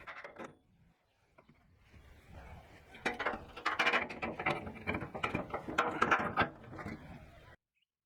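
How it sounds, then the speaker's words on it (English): Ratchet tightening the bolts that hold the stand to the bottom of a wheelbarrow, rapid clicking bursts close by after a quiet start, with a few knocks and rattles between strokes. "add the stand to the bottom of the wheelbarrow and tighten the bolts down"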